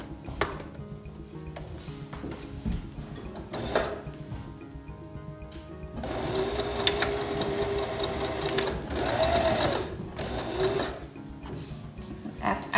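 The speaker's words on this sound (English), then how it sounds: "And I'm going to come over to my sewing machine. And I'm gonna sew along the edges." A sewing machine stitches along the edges of a cloth face mask, starting in short bursts of rapid mechanical whirring, then running in a longer, steadier buzz that grows louder partway through.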